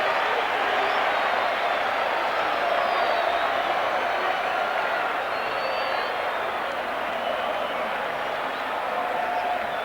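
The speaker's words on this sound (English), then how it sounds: "The crowd has gone wild here at the Vélez Sarsfield Stadium" Roaring stadium crowd at Vélez Sarsfield Stadium cheering an Argentina try in a 1987 rugby union test against Australia, a dense, sustained wash of cheers and shouts that stays loud and steady throughout with no pauses.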